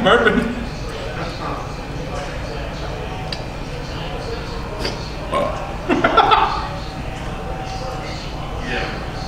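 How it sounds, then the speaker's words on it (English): A person burps while eating very spicy hot chicken wings during a wing-eating challenge at a restaurant, a few short belches mixed with talk and light clinking of dishes. "You're burping."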